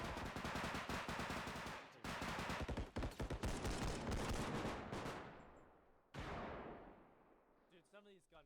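Rapid gunfire bursts in the video game BodyCam, dense automatic volleys with short gaps, loud and close, trailing into a decaying echo near the end.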